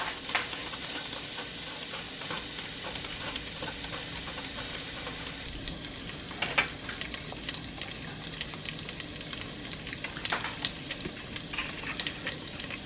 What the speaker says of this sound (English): I'm going to fry it up just like I would regular bacon, and I'm going to render, it's going to render fat